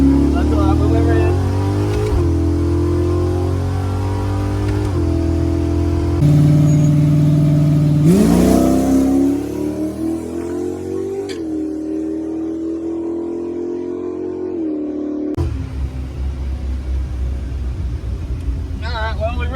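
Small truck engine revving hard as it launches, a sustained loud drone that climbs in pitch, then a sharp shift and a lower rumble, with people talking over it.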